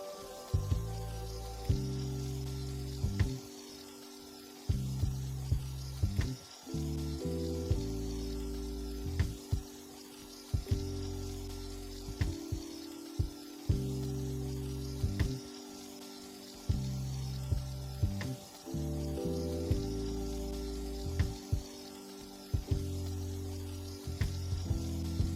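Duck fillet skin sizzling in a hot pan, a continuous close fizzing sizzle with repeated low tonal music-like bands running under it and no speech.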